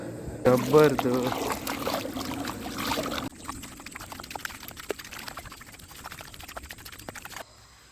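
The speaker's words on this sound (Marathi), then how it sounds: "तर ह्या पाण्यात जराशे पाय धुवावे लागणार" Water splashes and pours as feet are rinsed, a burst of sloshing at first, then softer trickling and dripping continuing steadily.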